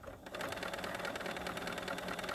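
A sewing machine runs steadily, stitching a fabric face mask closed, its fast, even needle rhythm close and continuous with no talking.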